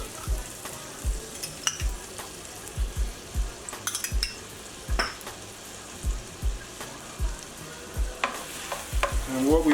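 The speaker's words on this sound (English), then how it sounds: "Let our garlic toast up a little bit." Minced garlic sizzles gently in melted butter in a pan, broken by repeated scraping stirs and soft utensil clicks at an uneven rhythm, close and fairly quiet.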